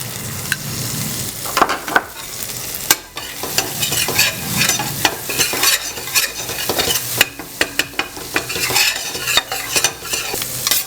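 Turmeric and ginger-garlic paste fry in a pan for Egg Kothu Parotta, with a steady sizzle broken by sharp metallic clinks of a stirring utensil against the pan, loud and close, with no voice.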